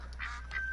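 Ducks quacking in the hunting game Call of the Wild, a short burst of a couple of nasal calls over a steady low game ambience, fairly faint and with no talk.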